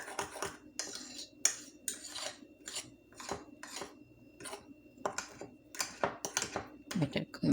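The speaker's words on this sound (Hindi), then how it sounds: "बटर को मैश कर लेते हैं" A utensil mashes butter into waffle batter in a bowl, making a rapid series of soft knocks and scraping clicks in an uneven rhythm, close by and moderately loud, with a voice talking faintly underneath.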